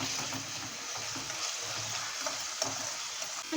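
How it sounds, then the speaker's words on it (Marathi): Onion sautéing in oil in a pan for Surat-style anda ghotala, a steady soft sizzle with faint stirring scrapes throughout, close and even in level. "कांदा छान असा परतून घ्यायचा आहे"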